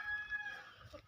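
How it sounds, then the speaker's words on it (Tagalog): Chickens in a small backyard coop clucking and calling faintly at a distance, a brief soft burst of fowl sounds with no speech. "Maor niya mo mga manok mga boss"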